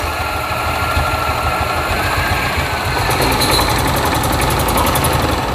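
A small golf cart engine runs steadily nearby with a constant buzzing drone and slight vibration, continuous throughout with no talking.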